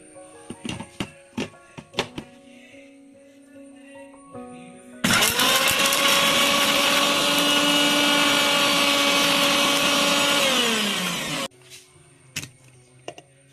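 An electric mixer grinder with a small jar grinds shallots, garlic, chili pepper and salt: one loud, steady whirring burst of about six seconds, with faint clicks and handling before and after.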